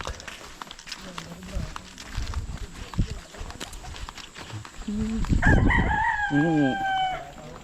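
Rooster crowing at a campsite, loud and close, comes near the end over earlier clucks and rustling, while people talk through much of the scene.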